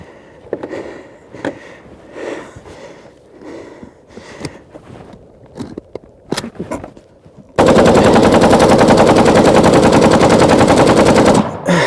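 An AK-47 rifle fires close and loud, first in scattered single shots and short bursts, then in one long unbroken burst of rapid fire lasting several seconds before stopping abruptly.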